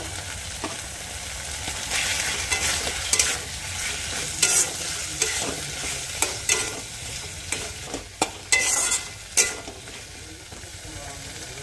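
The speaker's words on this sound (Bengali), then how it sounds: "ভালো করে একটু নাড়াচাড়া দিয়ে নেব।" Potato curry (aloo kosha) fries in a pan with a steady sizzle while a spoon stirs it, giving repeated scraping strokes and sharper clicks that grow more frequent toward the end.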